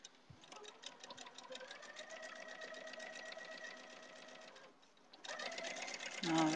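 A sewing machine stitches quilt block pieces in a steady rapid run of needle ticks, pausing briefly near the end before a louder burst resumes close by.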